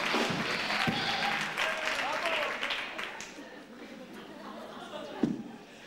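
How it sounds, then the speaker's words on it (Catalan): A concert audience at a Santa Cecilia celebration applauds, a busy round of clapping with chatter mixed in, gradually thinning into scattered claps and voices with a sharp knock near the end. "donem un aplaudiment al que serà el company"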